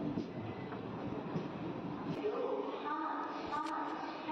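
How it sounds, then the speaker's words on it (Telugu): A train pulls into platform 1 at Vijayawada station with a low rolling rumble and rattle of carriages that eases as it slows, with voices talking over it. "విజయవాడ ప్లాట్ఫామ్ నెంబర్ 1కి మన ట్రైన్ చేరుకుంది."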